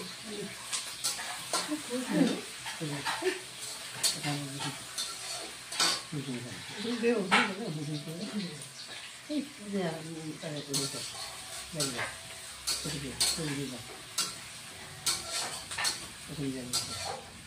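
Onions fry with two bay leaves in a pan for a meat curry, a soft sizzle with frequent scrapes and clinks of stirring while someone talks over it.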